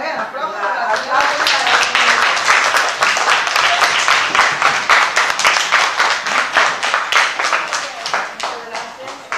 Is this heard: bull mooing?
no